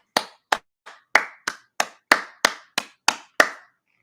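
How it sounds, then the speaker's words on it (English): A single person claps eleven times in a slightly uneven rhythm, each clap sharp, close and loud, with no voices. "You got me clapping shit."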